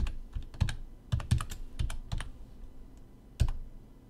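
Password typed on a computer keyboard while upgrading the Electrum Bitcoin wallet, a quick run of close, crisp key clicks in uneven bursts with short pauses and a final louder tap, no talking.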